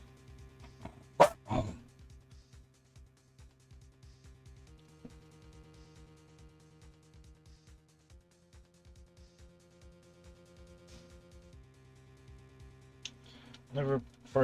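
In Phoenix Wright: Ace Attorney, a dog lets out a few short, sharp barks early on and again near the end, set against a sustained, quiet musical drone.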